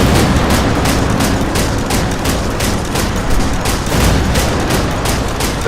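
An anti-aircraft gun in Combat Wings: Battle of Britain firing a loud, dense, continuous rapid barrage of shots with a steady rhythm, close and unbroken across the whole stretch.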